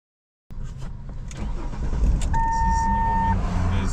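A Ford Explorer 3G engine cranks and catches after a moment of silence, then settles into a steady near idle, while a tone sounds and people talk nearby.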